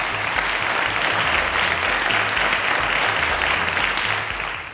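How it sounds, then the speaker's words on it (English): Studio audience applause on a televised school quiz show, loud, dense and steady clapping sustained throughout, easing slightly at the very end. "Round of applause to her,"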